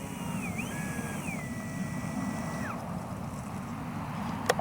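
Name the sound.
motor of Skynetic XCub RC plane in flight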